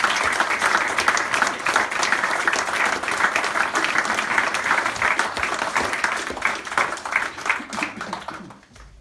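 A seated audience gives a round of applause, dense steady clapping that fills the room for about eight seconds before tapering off at the end.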